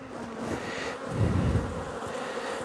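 A honeybee hive hums with a dense, steady drone of many bees, close and loud, outdoors on a sunny but cold day of about 7 to 10°C, with no one talking.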